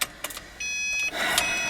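A 2010 Subaru Forester starting on the key: brief clicks and a short whir, then a steady electrical hum and a rising rush as the engine catches and settles, heard up close with no talking.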